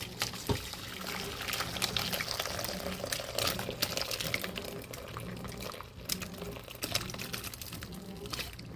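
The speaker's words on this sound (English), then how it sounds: "I'm gonna strain this water." Water from cooked rigatoni pours through a strainer in a home kitchen, a steady close splash and trickle that continues throughout.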